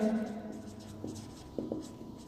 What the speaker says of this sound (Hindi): अगर हम कार्टेशियन कोऑर्डिनेट्स में रिप्रेजेंट करें तो हम लिखते हैं स्क्रोडिंजर